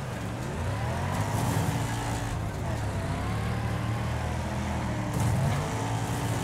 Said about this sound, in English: I've just got this engine pinned, boys